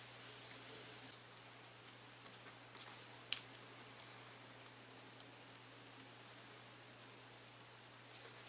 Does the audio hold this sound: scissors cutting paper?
yes